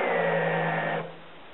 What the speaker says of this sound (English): I'll go ahead and use this other bit just to taper it a little bit.